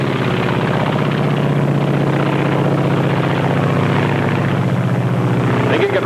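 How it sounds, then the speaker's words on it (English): Japanese Zero fighter plane in flight, a loud steady propeller-engine drone with a throbbing pulse, close and continuous, under narration on an old recording. "This is the Japanese Zero."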